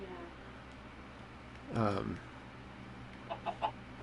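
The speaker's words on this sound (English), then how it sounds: "This poor chicken is going to have to find a new home." A Minecraft chicken gives a short burst of clucking, then a few quick clucks later, all low in level beneath a quiet background.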